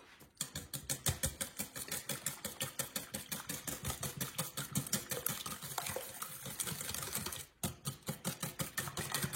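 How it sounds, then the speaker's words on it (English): Two cups of cream whisked briskly in a bowl, a fast, steady run of close, sharp clicking strokes, continuing without pause apart from one short break near the end. "Okay, there's 2 cups of cream. And we'll give that a quick whisk."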